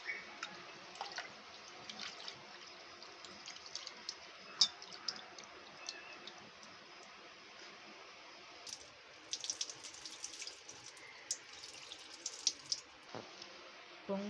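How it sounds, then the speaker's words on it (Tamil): Foxtail millet, soaked for five minutes, is washed in water in a kitchen sink, with quiet running and splashing water and small scattered clicks and drips throughout. "இதை நம்ம கழுவி எடுத்துக்கலாம்"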